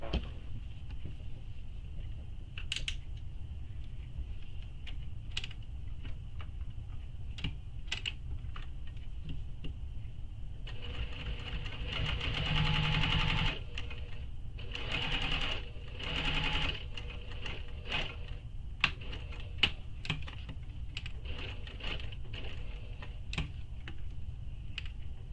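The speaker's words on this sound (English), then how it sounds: "I'm going to start top stitching here" A sewing machine top stitches a shoulder bag in quick, steady bursts, its rapid ticking stitch running near and fairly quiet, with a louder, denser stretch midway and short pauses between runs.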